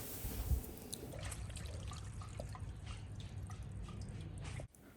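Water running into a plastic paint bucket, a steady splashing trickle with scattered drips over a continuous low wash, moderately close, stopping abruptly near the end.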